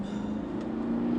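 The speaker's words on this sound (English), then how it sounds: "flatten my foot on the throttle, and go" A Porsche Cayenne S V8 Diesel pulls away at full throttle from a standstill, a deep, steady engine drone that swells slightly over a brief moment, close and continuous.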